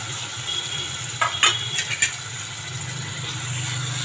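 Potato, tomato and masala-stuffed brinjal sauté in oil, giving a low steady sizzle with a short cluster of utensil clinks and scrapes against the pan midway.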